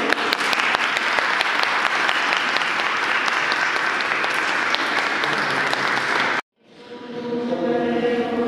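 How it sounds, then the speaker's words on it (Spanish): A parish confraternity audience at Santa Marina gives a long, dense burst of applause for new members, then it cuts off abruptly and fades back in as a softer, more resonant round of clapping. "Y le damos un aplauso."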